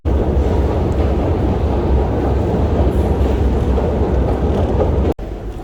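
A Soviet-era metro train runs with a loud, steady low rumble and rattle that holds close and even throughout, then cuts off abruptly near the end.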